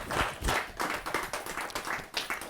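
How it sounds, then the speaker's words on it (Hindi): An audience at a Hindi poetry gathering applauds an international poet, a burst of fairly close, rhythmic clapping that rises and falls in steady waves with no speech. "जहाँ जोरदार ताली के साथ उनका अभिनंदन।"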